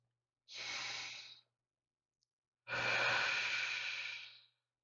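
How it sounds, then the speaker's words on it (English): Two slow, deep breaths close to the ear, a long breathy exhale, a pause, then a second, fuller breath, with quiet stillness between them. "let's breathe"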